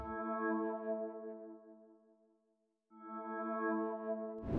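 Simple sustained synth pattern on Analog Lab's Affection preset, a smooth chordal pad that thins out to a brief gap before returning at the same soft level, with no voices.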